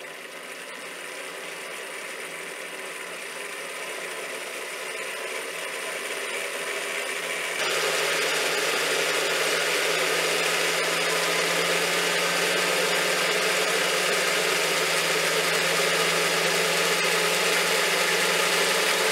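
USA Trains G scale SD40-2 diesel model locomotive with one electric motor in each truck, running as a steady mechanical whir and hum that grows louder and fuller partway through, close and continuous with no talking.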